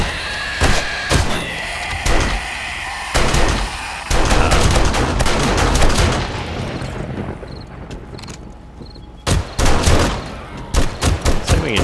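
Gunfire in the video game 7 Days To Die as the player shoots zombies: loud, sharp shots in irregular bursts and single blasts, with some thumping impacts between them and no talking.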